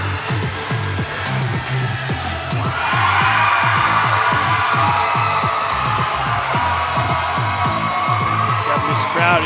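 A crowd at the 2017 MAC gymnastics championship swells into louder, sustained cheering partway through, over a steady thumping rhythmic beat.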